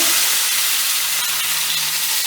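Grilled mackerel sizzles steadily as it is flipped, a loud continuous hiss and crackle without a pause from start to finish.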